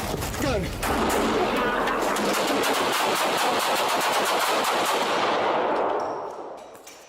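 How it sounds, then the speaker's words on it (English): Police gunfire erupts as a dense, sustained volley of overlapping shots that continues for about six seconds before tapering off, loud and close. "Shots fired"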